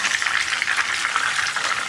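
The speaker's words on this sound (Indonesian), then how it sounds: "terus kita goreng ayamnya sampai nanti ayamnya berwarna kecoklatan" Boiled chicken frying in a wok gives a loud, close, continuous sizzle and crackle of hot oil with fluttering spits, unbroken for the whole moment.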